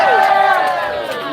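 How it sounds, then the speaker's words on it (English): A crowd at a New Year's Eve political rally in Concord, New Hampshire cheers and whoops loudly and continuously, with raised voices sliding in pitch and no separate talk. "Let's give him a round of applause."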